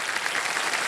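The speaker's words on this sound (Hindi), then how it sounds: "एक बार जोरदार फिर से ताली बज जाए इनके लिए।" Studio audience of the KBC Season 17 quiz show breaking into steady, dense applause, a full wash of clapping sustained at even loudness for under a second with no voices on top.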